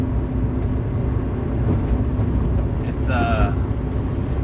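A 1997 Mazda Miata with a turbo and a 2.5 to 3-inch exhaust without a muffler drones steadily while driving, a moderate low rumble with a brief whistle partway through, under talk.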